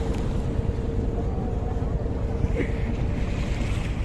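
A boat moves across open haor water at Nikli Haor in Kishoreganj, Bangladesh, with a steady wash of waves and wind buffeting the microphone, continuous and fairly loud throughout.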